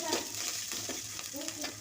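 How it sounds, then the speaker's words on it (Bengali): Onion and chilli fried together with ginger and garlic paste in a pan give off a steady hiss with a few scraping stirs, close and continuous, with a voice faintly present under the sizzle. "রসুন বাটা দিয়ে সুন্দর করে ভেজে নেব।"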